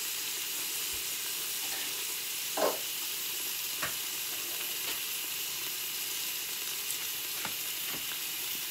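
Food sautéing in a pan gives a soft, steady sizzle and hiss, broken by a few quiet stirring clicks and taps, with one brief louder scrape partway through.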